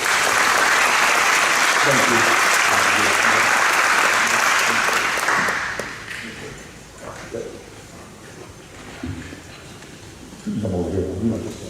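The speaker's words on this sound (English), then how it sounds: "give them a round of applause" High school academic awards audience applauding the stream team, loud sustained clapping for about six seconds, then a voice speaking and a brief second burst of clapping near the end.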